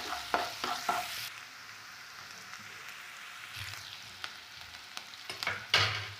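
Finely chopped onions sizzling in hot oil in a pan while making turkey berry gravy, with bursts of scraping stirring at the start and end and a steady quiet fry in between, no talk.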